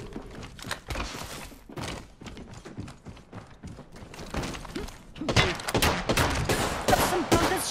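Rapid gunfire in an Apex Legends-style shooter match with Rampart: dense bursts of shots and impact thuds pile up close and loud, intensifying toward the end amid game clatter.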